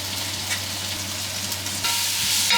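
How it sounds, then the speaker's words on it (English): Chopped leeks and garlic sizzle steadily in a hot pan, a close, continuous crackling hiss that grows a little louder toward the end. "let's fry the leeks with the garlic."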